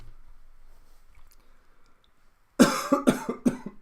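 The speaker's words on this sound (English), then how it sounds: "I didn't expect that cough to come so soon" A man's cough bursts out after near silence: a sudden close, harsh cough followed by several rapid, diminishing coughs in a short fit.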